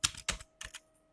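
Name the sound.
typing text on a computer keyboard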